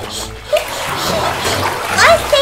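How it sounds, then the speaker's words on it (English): A child splashes water by hand in a big washroom, several bright splashes and sloshes in short bursts, close and fairly loud, with a voice speaking alongside. "Maybe I can just splash just a little bit."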